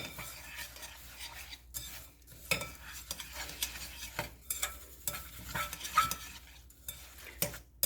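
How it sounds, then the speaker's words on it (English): Melted butter being stirred into pie crust mix with a knife for a no-bake chocolate peanut butter cheesecake pie, giving irregular close scraping and clinking taps over a soft, steady background, with no voices. "You can give it a stir with the knife that we happen to have handy to get it mixed"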